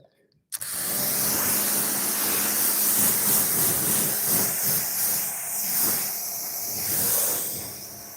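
A steady, close hiss of water spray rinses a car being readied for a car show, starting abruptly after a brief quiet moment and continuing with slight swells in loudness.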